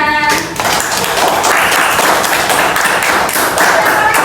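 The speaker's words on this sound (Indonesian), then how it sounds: "tepuk tangan dulu untuk Putra" Loud, close clapping in a classroom lesson, a small group of people clapping briskly for a pupil named Putra, with a short tone before and uneven, distinct hand claps throughout.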